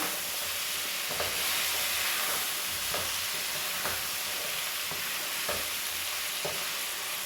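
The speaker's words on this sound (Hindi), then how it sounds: "देखें जी अच्छी तरह से फ्राई हो चुका है चिकन" Chicken frying in a pan for pulao gives a loud, continuous sizzle with regular light clicks and scrapes from stirring, and no voices.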